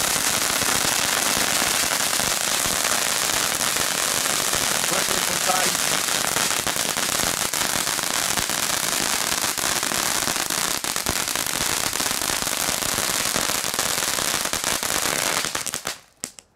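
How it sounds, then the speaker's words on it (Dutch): A tank-shaped firework fountain crackles and sputters continuously for many seconds, a dense loud spray of popping that cuts off abruptly at the end, with voices faintly underneath. "dat is inderdaad gewoon een fontein in de vorm van een tank"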